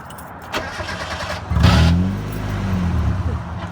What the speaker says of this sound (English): Start it up again